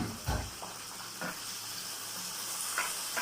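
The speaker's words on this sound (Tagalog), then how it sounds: "Gigisa natin siya hanggang sa lumambot yung kanyang laman" Ginger and tomato sauté in a pan for pinakbet, a soft steady sizzle with a few light stirring knocks, close by, with no voices.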